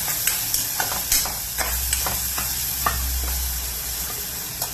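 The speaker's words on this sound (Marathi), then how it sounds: "सगळं चांगला मसाला परतून घ्या" Spice paste frying and being stirred, a continuous close sizzle punctuated by repeated spoon scrapes and taps against the pan, no voices.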